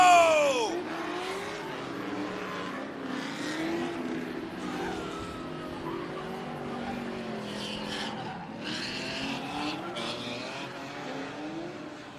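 Drift car at a speedway race track, a sustained engine drone with rising revs and screeching tire squeal, heard at some distance amid crowd ambience.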